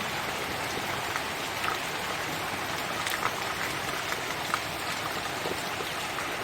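Gentle, steady rain falls over a dry garden, a soft continuous patter with a few faint distinct drops, heard on its own without talk.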